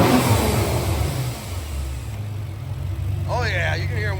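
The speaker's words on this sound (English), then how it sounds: "I'm guessing you can hear the turbos up here a lot better." The twin 66mm turbos on a 4.1L twin-turbo V6 GT-R whine as the engine revs, then wind down after a cold start through a 4-inch valved exhaust, a loud close engine roar with a rising whistle and someone speaking.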